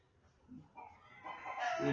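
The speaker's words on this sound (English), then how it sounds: "it sounds like there's a rooster right below the house" A rooster crows once, rising and drawn out, somewhat distant, over faint background noise.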